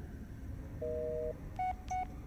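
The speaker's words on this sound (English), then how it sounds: "I'm calling Jess" Phone keypad dialing tones from the video game Blair Witch: one long dual tone followed by two short, sharp beeps, loud and clear over a faint background hum, with no talking.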